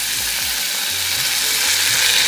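Coconut milk poured into hot bulgur in a pan, giving a steady, close, even sizzle and hiss with no voices.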